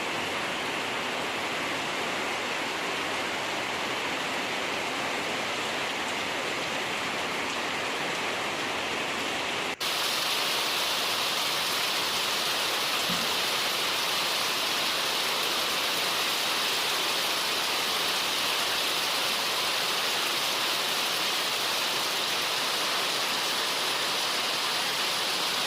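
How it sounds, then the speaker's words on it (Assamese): Heavy rain pours down in a dense, steady broadband hiss with no letup. Partway through it jumps to a louder, brighter level and continues unbroken. "ঘৰ আহি পোৱাৰ লগে তামাম বৰষুণ ষ্টাৰ্ট হৈ গ'ল"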